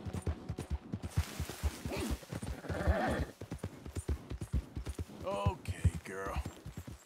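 Horse from Red Dead Redemption 2, heavily loaded, walking with steady hollow hoof clops, close and rhythmic, while a person talks over it and the horse snorts and whinnies near the end.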